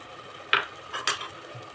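Field beans (avarekalu) go into a pan for pulao with a few quick clinks and rattles of utensil on metal, faint and close, under a light background sizzle.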